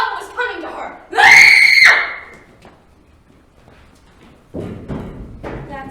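Danny lets out a loud, piercing scream lasting under a second in a stage musical scene, preceded and followed by brief spoken voices and a soft thump.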